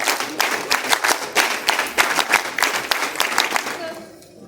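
Cadets at an NCC national integration camp ceremony clap together in unison, a steady run of sharp, evenly spaced group claps ringing out loudly for about four seconds before tapering off near the end.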